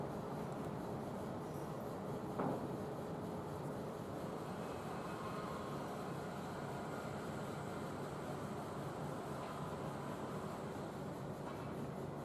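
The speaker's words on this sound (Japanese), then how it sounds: "今通過していった電車は車庫の一番左の線路へ入っていきました。" A Tokyo Metro Ginza Line subway train rumbles steadily into the Ueno depot, a continuous low, broad drone with no clear beat, a faint squeal rising around the midpoint.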